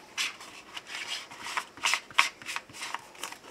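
Tarot cards shuffled by hand for a reading: a run of soft, papery riffling bursts in an uneven rhythm, close and fairly quiet, with no talking.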